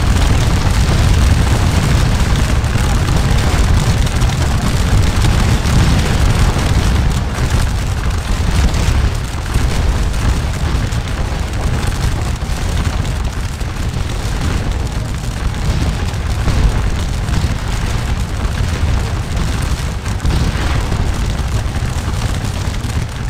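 Cannon fire in the Scourge of War: Waterloo video game at a Napoleonic battle around a fort: a dense, continuous low rumble of booming artillery blasts that stays loud throughout, with no clear gaps between shots.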